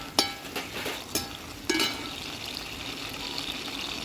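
Chopped ginger frying in oil in a pan for Kerala coconut chutney: a steady soft sizzle throughout, punctuated by three or four sharper clinks and scrapes of stirring, close by and with no talk.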